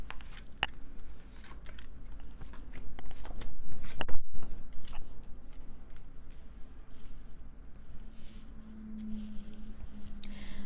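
Oracle cards being shuffled by hand: a steady run of soft papery riffles and light clicks for about eleven seconds over a low background hum, with no one speaking.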